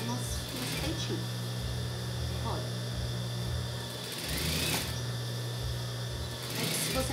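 A sewing machine runs in short bursts as it hems folded red and checked fabric, a steady mechanical hum stopping and starting, and someone talks over it.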